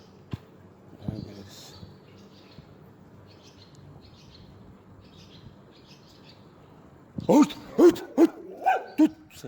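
After a quiet stretch with faint birdsong, a dog breaks into a burst of about six loud, close barks in quick succession, early morning in Şarköy, Turkey.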